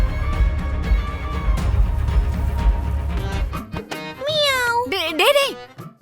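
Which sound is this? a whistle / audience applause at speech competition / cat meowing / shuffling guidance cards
cat meowing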